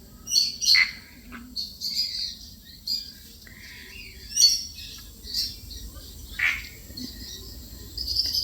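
Hornbills call in short, harsh squawks and chirps at irregular intervals, moderately distant, over a quiet background hum.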